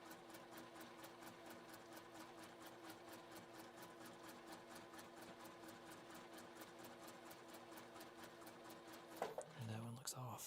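A sewing machine stitches quilt four patches for a cat bed in a steady rapid rhythm of needle strokes, quite faint. It stops near the end, when brief handling noises and soft voices follow.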